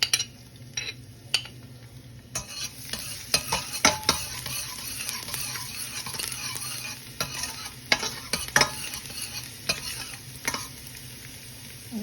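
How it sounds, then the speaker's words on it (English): Garlic cloves hit a pre-heated pot and fry with a steady close sizzle, broken by stirring and occasional clinks of a utensil against the metal for about twelve seconds. "I'm gonna add my garlic to the pot."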